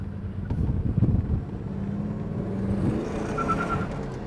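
A 1972 Chevrolet Chevelle fitted with a GM 502 crate motor accelerates, giving a steady, deep engine rumble that swells slightly early on and then holds, with no voices over it.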